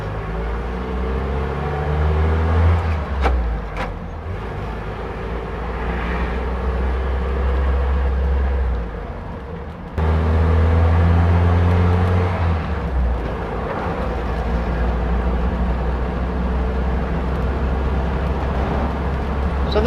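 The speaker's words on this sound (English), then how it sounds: "So this old Willys Jeepster gets down the road great." A 1949 Willys Jeepster convertible drives along the road, its steady low engine rumble loud and close for the whole stretch, with a brief dip and surge midway, no voices.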